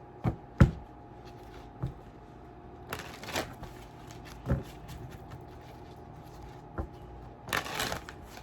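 Tarot cards are shuffled and tapped in irregular bursts, sharp riffles and soft slaps scattered over a quiet background, with a longer rustling flurry near the end.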